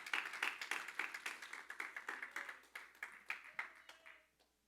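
Congregation clapping in rhythm during a church service, a steady run of sharp hand claps fading toward the end.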